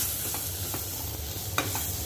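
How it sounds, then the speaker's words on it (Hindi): A pan of ratalu sabzi with turmeric, Kashmiri red chilli and garam masala is stirred as it cooks, with a soft sizzle under a few scraping spoon strokes and one sharper clink. "अब हम इसको हिला देंगे इस तरह से"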